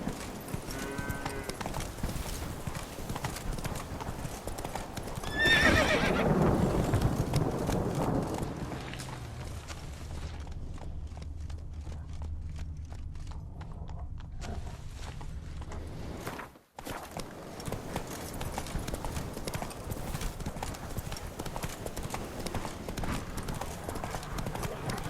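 Roach, a horse in The Witcher 3: Blood and Wine, trots with steady clip-clop hoofbeats that are loud early on, then fade into a quieter rumbling stretch with a brief dropout, before footfalls and game ambience return.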